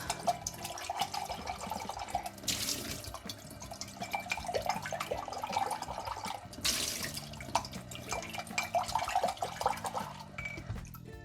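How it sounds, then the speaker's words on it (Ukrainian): Running water from a tap splashes as a paintbrush is rinsed, a faint continuous trickle broken by a couple of louder gushes and drips, with no talking. "Таке нормальне, звичайне вимивання пензлику"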